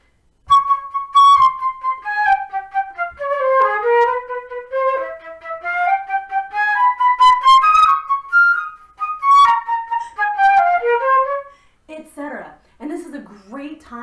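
A flute plays a midstate audition passage for 11th and 12th grade, a clear solo melody of sustained and moving notes close up, followed at the end by a short stretch of faint talk.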